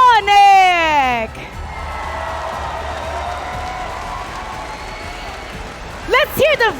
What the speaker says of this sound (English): Everybody, let's give a big round of applause for